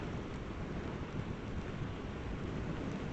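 Heavy rain pours during a highway ride on a Honda Unicorn motorcycle between Vijayawada and Hyderabad, a steady, dense rushing roar mixed with wind buffeting, with no voices.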